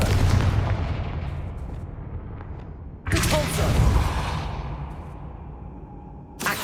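A Confringo blasting spell from Hogwarts Legacy strikes with loud, close explosive booms, one at the start, a second sharp blast near the middle and a third at the end, each fading into a rumbling tail.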